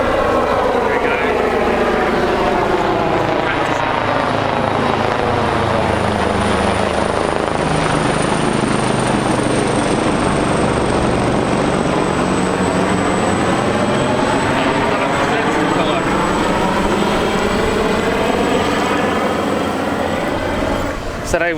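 Coast Guard boats circling a sailboat at sea, a loud sustained engine roar that swells and sweeps past close by, steady for about twenty seconds with no break.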